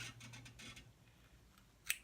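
Scissors snip off sewing thread on a girls' top, soft faint cutting sounds early on followed by one sharp, close snip near the end in an otherwise quiet space.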